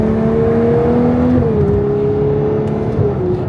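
A Ferrari 812 Competizione's V12 engine in race mode, a loud, close, steady tone whose pitch holds and then drops in steps, with no voices.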